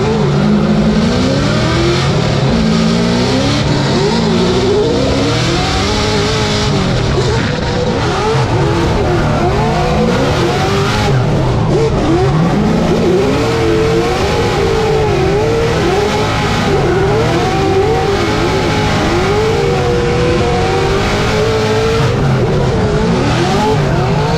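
Drift cars battling in an arena-style Formula Drift competition in New Jersey, with engines roaring and revving continuously over screeching tires for the whole stretch, loud and close with no break in the noise.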